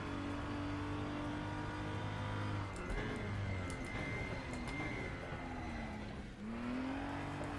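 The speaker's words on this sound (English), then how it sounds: "BMW. You drift out of that corner." A BMW race car in the RaceRoom racing game drones at high revs through a corner, the engine note sliding down and climbing again as it shifts, steady and close with no talk.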